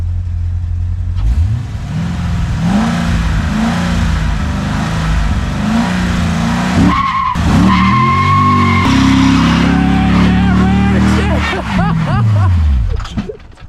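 Corvette C7 Z06 revving hard and launching with a clutch drop, engine roaring loudly up through the revs with tire squeal as it accelerates away, close and continuous before fading.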